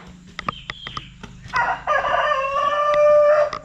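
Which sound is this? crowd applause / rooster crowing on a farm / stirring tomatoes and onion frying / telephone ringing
rooster crowing on a farm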